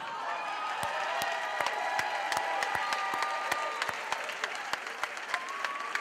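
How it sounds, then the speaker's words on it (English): Audience applause fills a room at an awards event, steady dense clapping with sharp individual claps popping through, mixed with faint crowd murmur throughout. "I want you to stop clapping, and I want everybody else to clap for you"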